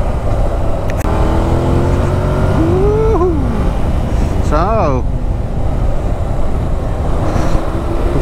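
A 2024 Yamaha MT-07 motorcycle is ridden and accelerated, its engine a steady droning rumble mixed with wind roar, with pitch rises and shifts partway through, heard from on board under a constant wash of noise.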